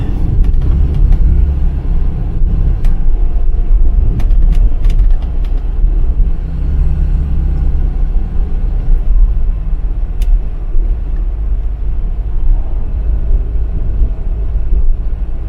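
A Mk3 Ford Cortina drives along the road, heard from inside as a loud, steady low engine and road rumble with some faint higher rattles and clicks, no talking.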